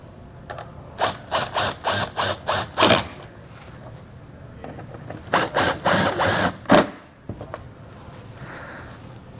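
A ratchet drives fasteners back into a Roadmaster LED taillight assembly, sounding as two close bursts of rapid, evenly spaced clicks separated by a short pause, with no talking.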